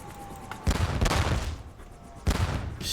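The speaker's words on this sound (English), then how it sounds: "Another burst of machine gun fire should knock the squad out." Machine gun bursts rattle in the Korean War video game Theatre of War 3 Korea: two loud, dense volleys of rapid gunfire, each lasting roughly a second, with a duller rumble between them.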